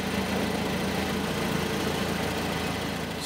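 A forklift engine idles in a continuous, even low rumble with a dense steady drone, close by and unchanging, without any speech.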